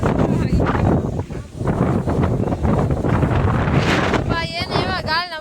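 Strong wind blowing outdoors at a riverside pilgrimage site during a family outing, buffeting the microphone with loud continuous rumbling gusts; a voice talks briefly over it near the end.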